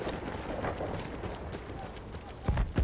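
Horses gallop in the World War I shooter game Battlefield 1, heavy thudding hoofbeats building to loud close impacts near the end over dense game noise, with a voice talking through it.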